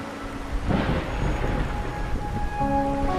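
Steady rain falls in the Wuthering Waves video game, a soft continuous hiss with a brief swell and faint tonal music lines threading through it.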